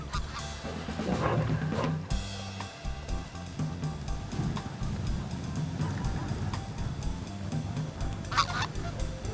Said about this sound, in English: there's two geese coming in, right behind the dog